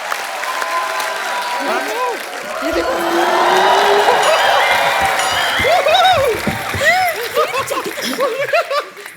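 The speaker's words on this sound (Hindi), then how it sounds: "एक बार फरहान और अर्जुन के लिए जोरदार तालियां।" Studio audience applause on an Indian TV comedy show, a loud, dense clapping swell with cheering, while musical whoops and voices ride over it.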